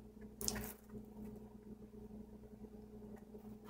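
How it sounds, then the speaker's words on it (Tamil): Half a lemon is squeezed into a pot of rasam, making a single brief, soft squish and drip near the start. Faint steady background hum follows. "அந்த 1/2 லெமன் வந்து நம்ம சேர்த்துக்கணும்."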